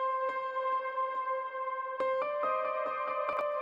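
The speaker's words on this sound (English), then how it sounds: "That's right out of the piano synth." Unprocessed VST piano synth playing sustained, loud notes and chords with struck attacks, several new notes entering in the second half, dry and alone with no voices.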